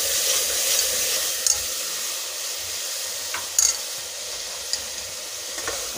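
Red chili and tomatoes frying in a pan for dal mash, a steady sizzle running throughout with a few sharp clinks of a spoon stirring against the pan, no voices.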